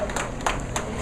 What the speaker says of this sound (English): gets a big hand from the home house crowd